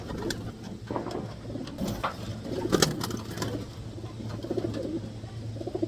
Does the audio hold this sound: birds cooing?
yes